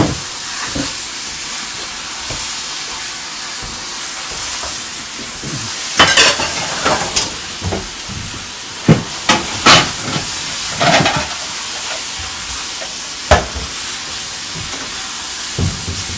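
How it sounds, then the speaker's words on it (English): Zucchini with pesto sizzles and hisses in a hot pan, with stirring scrapes and clatters coming in bursts over a constant frying hiss, close and loud with no talking. "so we're going to dump our pesto in here. And we'll stir that around."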